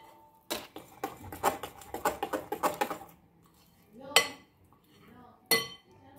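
Whisk or spoon clinking against a bowl while cupcake batter with baking powder is mixed for cinnamon banana cupcakes, a quick run of close, sharp clinks and scrapes followed by two isolated louder knocks, with a voice speaking briefly.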